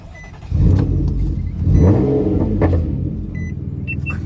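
A 7th-generation Nissan Maxima with a CVT transmission revs its engine hard, a loud rumbling rise that swells and holds close to the microphone with no talking.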